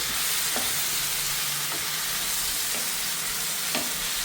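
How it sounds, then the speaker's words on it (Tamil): Sliced brinjal frying in oil in a pan, a dense, even sizzle filling the whole stretch with a few faint scraping stirs. "இதில் எண்ணெயில் ஃப்ரை பண்ணணும்."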